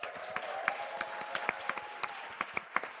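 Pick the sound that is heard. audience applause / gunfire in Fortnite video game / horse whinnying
audience applause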